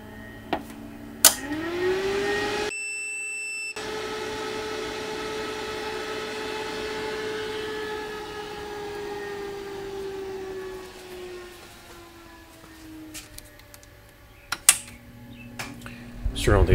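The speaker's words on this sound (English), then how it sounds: "Let's turn on the inverter." A small power inverter on a 12V 100Ah LiFePO4 battery switches on with a click, then hums with a steady whine that slowly drops in pitch, with clicks and handling noises around it.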